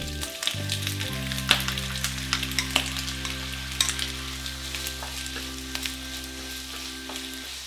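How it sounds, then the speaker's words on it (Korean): Boneless chicken feet stir-fried in oil with spicy red sauce over medium heat, a loud, continuous sizzle with crackling pops and a scrape of stirring, a steady hum beneath, no voices. "전체적으로 식용유하고 잘 도로도로 한번 살짝 볶아주신 다음에요. 자, 양념을 투입을 해주시면 되겠어요."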